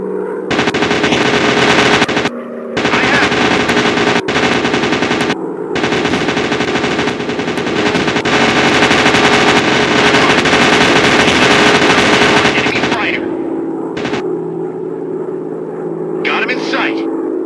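Aircraft machine guns rattle in long, loud sustained bursts during a World War II era air combat video game, broken by brief pauses over a droning engine, with a voice calling out at times.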